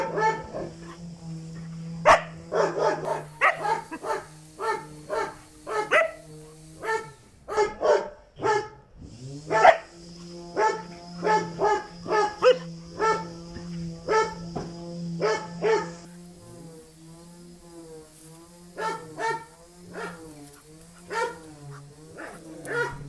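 A dog barks again and again in uneven bursts, some close and sharp, others yappy, captured on a smartphone with no one talking.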